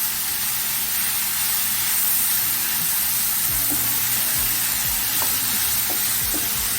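Food cooks in two tablespoons of coconut oil in a pan for a vegan gungo rice and peas dish, with a continuous close sizzle and hiss and a few soft scrapes of stirring, and no voices.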